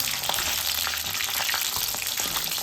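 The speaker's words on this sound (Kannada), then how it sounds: "ಈಗ ನಾನು ಕೊರೆದಿಟ್ಕೊಂಡಿರೋ ಮೆಣಸಿನ್ಕಾಯಿನ ಎಣ್ಣೆ ಒಳಗೆ ಹಾಕ್ತೀನಿ." Slit green chillies crackle and sizzle in hot oil, a continuous dense frying hiss with quick pops and stirring clicks throughout, close and steady.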